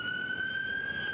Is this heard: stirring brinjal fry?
no